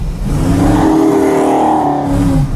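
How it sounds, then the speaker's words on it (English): A 1965 Dodge Coronet 500 sleeper engine accelerating hard, heard up close from inside the car as a loud, sustained roar with rising revs and no pauses. "I'm kind of excited to give it gas."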